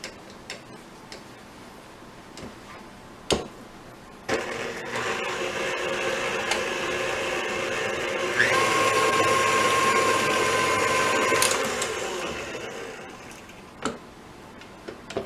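Electric mixer running steadily through chocolate mousse cake batter for about seven seconds, a sustained whirring drone with a brief tonal whine near its end, framed by quiet scraping and clicks before and after.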